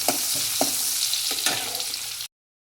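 Onions sauté in a hot pan for a Tamil-style raw banana thokku, a bright continuous sizzle broken by several sharp spatula knocks and scrapes, then abrupt silence near the end.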